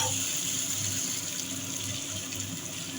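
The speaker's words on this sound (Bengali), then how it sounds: "মশলাটা ভালো করে কষিয়ে নিয়েছি এবার জল দেব" Water pours steadily into a pan of Bengali bhola fish curry masala, a continuous close rushing splash with no break for the whole moment.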